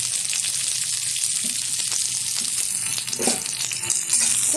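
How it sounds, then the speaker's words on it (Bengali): Chopped onion, ginger and garlic fry in hot ghee with a loud, dense, continuous sizzle and crackle, a few faint utensil knocks underneath. "এবার এটা ঘিয়ের মধ্যে ঢেলে দিলাম"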